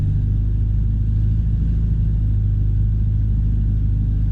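A Cap 10 aerobatic airplane's engine drones steadily at throttle, a loud, even, low rumble with no variation, heard from inside the cockpit.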